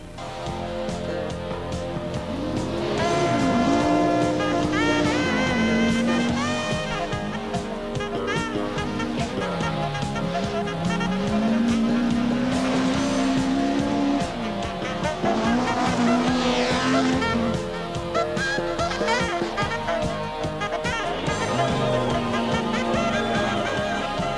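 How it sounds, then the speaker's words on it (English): Audi Sport Quattro rally car racing at a World Championship rally event, its engine droning loudly and continuously as the pitch rises and falls through gear changes, close and dominant throughout. "Blomqvist drives the Audi Sport Quattro to its first victory in a World Championship event"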